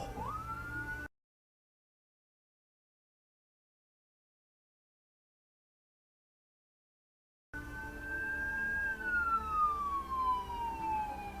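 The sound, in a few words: ambulance siren passing on the road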